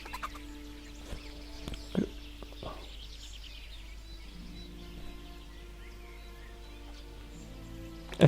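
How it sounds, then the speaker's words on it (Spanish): Chickens cluck on a medieval village farm in Kingdom Come: Deliverance, with scattered short clucks and squawks at moderate distance over a low, steady ambient hum. "Mira, podría matar las gallinas."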